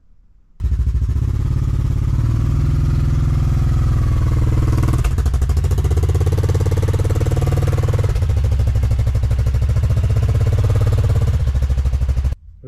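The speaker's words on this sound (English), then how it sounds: "We're going to wheel the bike out and let her warm up." A 2021 Yamaha Grizzly 700 ATV idles outdoors to warm up, a loud, steady throbbing engine note that runs unbroken from start to finish with no voices.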